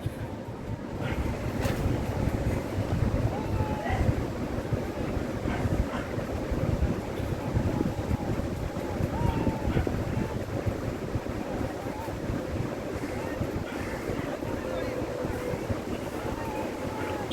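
Steady rumble and rushing of wind with water and a boat on a river after an embankment breach, a continuous noisy wash without clear speech.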